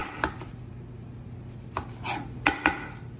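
A knife cuts through a pressed, toasted club sandwich, several crisp crunching and chopping strikes against a board, close and fairly loud over faint room hum.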